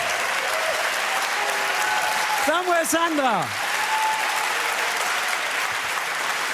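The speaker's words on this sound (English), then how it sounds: "It's a big applause for you" Audience applause at a Young Inventors Prize 2025 event, a steady wash of clapping across the whole stretch with a presenter talking over it.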